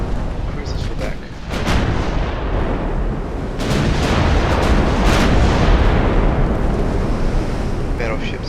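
Battleship guns fire in a naval strategy game, heavy booming salvos over a constant roar of sea and wind, with sharper bursts near the start and middle.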